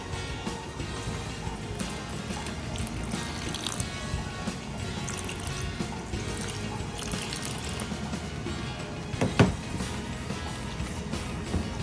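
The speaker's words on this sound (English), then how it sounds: "Add a little bit of water. Cold water, please don't use hot water." Cold water poured into a bowl of ogi flour pap, a steady splashing trickle heard close and alone, with one brief louder splash near the end.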